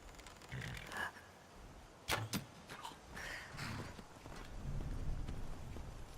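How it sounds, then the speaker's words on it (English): A horse's hooves clip-clop in the Skyrim Requiem video game, producing quiet, uneven footfalls mixed with a few sharp clanks and soft game ambience. "I'm parking my horse at the fort"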